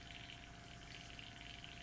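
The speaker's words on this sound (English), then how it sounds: "There's a back flush." An Air Cobra airbrush from Mig Ammo being back-flushed during cleaning: a steady, close hiss of air churning liquid in the cup, gurgling continuously without pause.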